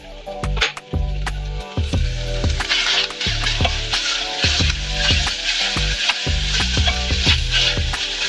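Onions sizzle steadily in a pot as they cook toward caramelized brown, with repeated sharp clacks and scrapes of stirring cutting through the continuous frying hiss.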